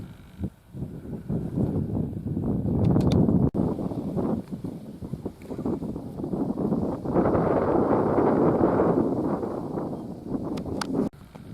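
Wind gusts across wet, blustery Exmoor and buffets the microphone in loud, uneven surges. Faint rustling runs underneath, and brief clicks mark the start and end.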